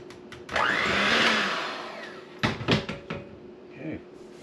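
An electric mixer whirs on low through zero-sugar chocolate cake batter, a steady drone that swells and fades over about two seconds, followed by clunks and knocks as it is set down.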